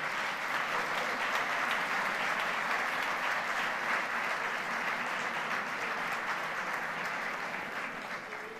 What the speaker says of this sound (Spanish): pido vos un forte aplauso para eles que se atopan aquí con nós.